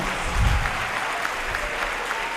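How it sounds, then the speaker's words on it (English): A crowd at an eighth grade moving-up ceremony gives the math award recipients a sustained round of applause, loud and dense, with a low thump near the start and scattered cheers within the clapping. "Give all of our math recipients a big round of applause"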